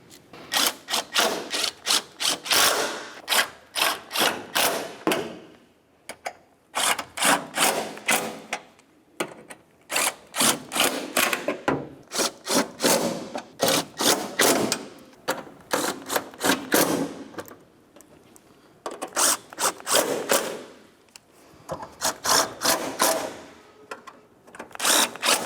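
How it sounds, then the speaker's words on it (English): Rapid bursts of clicking and ratcheting from hand or power tools driving mounting bolts into the cowl of a 2009-2010 Pontiac Vibe, coming in irregular loud spurts separated by short pauses, with no voice. "line up all your mounting holes and install all of your mounting bolts."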